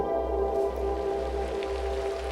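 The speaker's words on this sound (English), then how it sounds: "let it rain" Steady rain patters as a continuous, even wash of sound, moderately loud and unchanging, with no voices.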